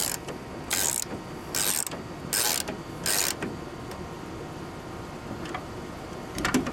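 GearWrench ratchet clicking while snugging a bolt on a Ford Ranger side mirror, four bursts of rapid close ratcheting spaced about a second apart, then a quieter stretch and a brief final burst.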